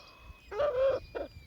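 A short burst of clucking from chickens and roosters, including porcelain and white Swedish breeds, a longer call followed by a brief second one, fairly close and clear.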